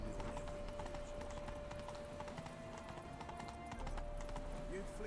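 Galloping hoofbeats from the horse Roach in The Witcher 3: Wild Hunt, a steady clip-clop rhythm running throughout under background game music and occasional voices.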